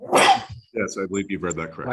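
A single sharp sneeze bursts out during a public hearing, followed at once by a person speaking.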